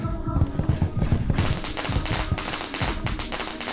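Rapid crackling bursts of a firecracker going off in the horror video game Shadow Corridor, a dense string of sharp pops close by that runs to the end.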